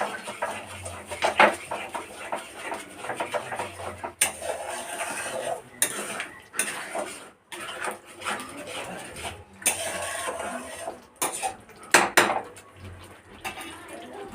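A spoon stirring tilapia curry spices with whisked yogurt in a pan, giving intermittent scraping and clinking bursts with short gaps between strokes, moderately loud and close.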